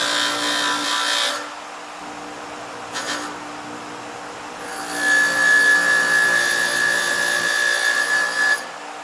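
A wire wheel grinds harshly in bursts against metal edges, deburring them, with a brief scrape in between and a steady high whine during the longer final pass.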